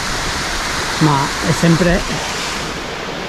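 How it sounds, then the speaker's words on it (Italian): A small waterfall at Cascata del Salton in Lamon, Belluno, pours with a steady, even rush of water, while a voice speaks briefly over it midway through. "E qui dietro abbiamo un'altra mini cascata."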